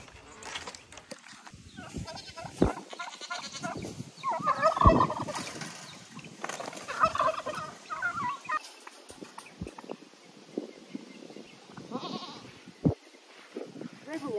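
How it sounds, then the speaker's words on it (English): Turkeys in a farmyard pen gobble in scattered bursts at mid distance, mixed with someone talking over them. "All right, so we put the turkeys over here."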